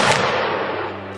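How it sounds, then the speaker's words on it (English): A single loud musket volley in the Mount & Blade Warband Napoleonic Wars video game, one sharp burst that fades into a long rolling echo. "launch one more shot"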